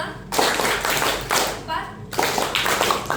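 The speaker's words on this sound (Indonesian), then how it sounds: "Tepuk jenis 5 kali." High school students clap a counted rhythmic pattern together in several sharp grouped bursts with brief pauses between them, and voices chant over the clapping.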